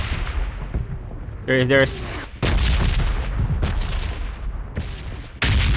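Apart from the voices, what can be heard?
gunfire in Call of Duty or PUBG Mobile video game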